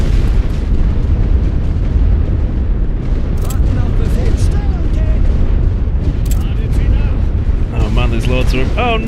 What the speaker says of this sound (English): Their artillery is coming down now.